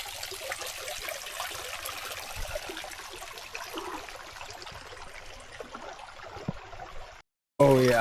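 Water at an outdoor hot spring trickles and laps steadily at a quiet level as someone gets in for a soak, with faint voices nearby, before the sound cuts out abruptly near the end.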